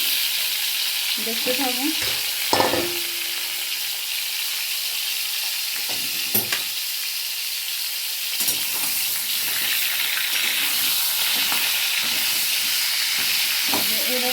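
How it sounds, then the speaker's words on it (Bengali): Pointed gourd (potol) pieces frying in hot oil give a steady, fairly loud sizzle and hiss throughout, with a few brief clatters and a short spoken line partway through. "এবার আমি পটলগুলো ভেজে নিচ্ছি।"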